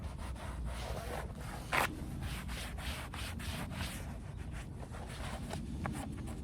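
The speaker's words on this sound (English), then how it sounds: "I'm just buffing hyper dressing into the mats using diluted hyper dressing and rubbing the hyper dressing outside edges of the mat" A cloth buffs diluted dressing into rubber truck floor mats, making a steady, continuous rubbing swish with rhythmic strokes and a brief scrape partway through.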